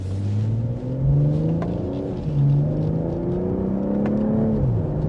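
A 2026 BMW M340i sedan accelerates from inside the cabin, engine rising in pitch, dipping briefly at gear changes, then climbing again with a steady, fairly loud rumble and no talking.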